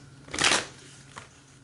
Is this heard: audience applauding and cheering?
no